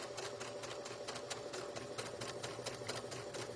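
Sewing machine back stitching a tiny seam on a small fabric carrot, a steady close mechanical whirr with rapid needle ticking and a continuous motor hum throughout.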